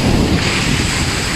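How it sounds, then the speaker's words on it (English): Steady gusting wind on Perissa beach, Santorini, buffets the microphone with a low, rumbling roar throughout the short stretch. "I'm gonna be shouting because it's windy where I am."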